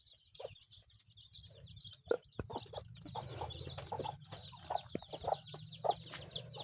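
Chickens clucking nearby in short, irregular bursts, with a few louder squawks and soft chirps from chicks over a low background rumble, no talk.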